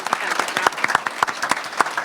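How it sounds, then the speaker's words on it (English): Applause from an evening audience at an Alaska gubernatorial candidate debate forum, individual claps distinct and fairly close, a moderately sized crowd clapping steadily. "A big round of applause, everyone, for all of our candidates here this evening."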